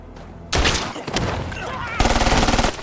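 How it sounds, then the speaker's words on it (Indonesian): Bursts of gunfire from a film shootout, Every Last One of Them, crack loudly and continuously, with a rapid rattling volley near the end, amid dramatic action noise and a voice briefly heard. "Dalam pengejaran Jack, aksi tembak-tembakan pun tak terhindarkan."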